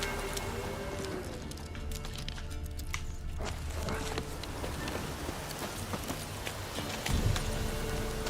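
A horse galloping in The Witcher 3 Wild Hunt: steady rhythmic clip-clop of hooves under ambient game sound, continuing throughout with a heavier thud near the end.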